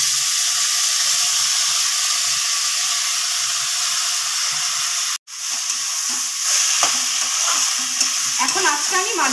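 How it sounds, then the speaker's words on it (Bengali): Drained, pre-soaked rice for a prawn pulao tipped into a hot frying pan and stirred, giving a steady loud sizzle and hiss with scraping, briefly cut out mid-way, then resuming with stirring clatter. "এবার দিয়ে দেবো চালটা, জল ঝরিয়ে রাখা চালটা দিয়ে দিচ্ছি।"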